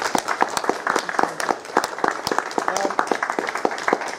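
An audience claps for a speaker at a talk about the Nottingham Roswell case, a brisk run of close, sharp handclaps from a modest crowd lasting a few seconds.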